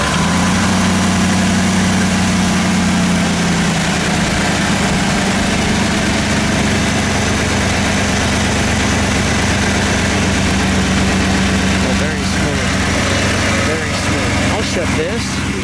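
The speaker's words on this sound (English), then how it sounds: "We'll let you listen to the engine." A 1989 Chevrolet Camaro Z28 IROC with a 5.7 liter V8 idles close by in a loud, steady rumble that roughens and vibrates, while a person talks over it.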